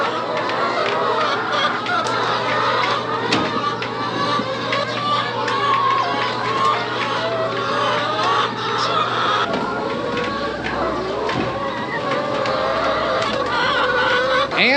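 Hens clucking and fussing in a chicken pen at feeding time, a steady busy chorus close by with scattered sharp calls and handling noises throughout.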